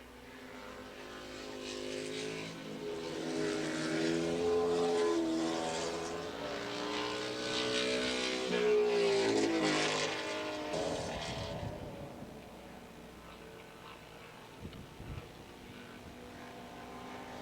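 Ducati and Norton racing motorcycles scream past on a track, several engines rising and falling in pitch as they approach and pass, loud and sustained before fading into a quieter engine drone.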